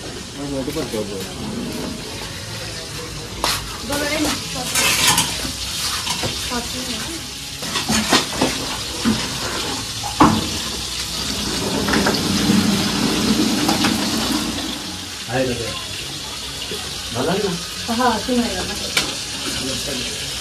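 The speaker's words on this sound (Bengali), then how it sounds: "আর এদিকে হচ্ছে আমাদের পোলাও রান্না হচ্ছে" Pulao rice cooks in a large pot at a wedding, with sizzling and wet stirring scrapes while people talk over it throughout.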